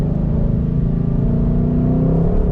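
Engine of a 2020 Ford Shelby GT500 Mustang in a loud, steady, close drone that holds an even pitch throughout, with no voices.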